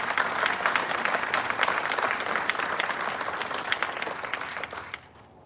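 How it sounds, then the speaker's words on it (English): Audience at a city's State of the City address applauds, a full, steady burst of clapping that continues for several seconds before tapering off abruptly. "a round of applause for all of them"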